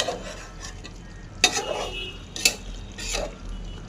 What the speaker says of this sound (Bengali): আস্তে আস্তে নাড়তে হবে।